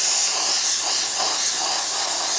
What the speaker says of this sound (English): The spray gun works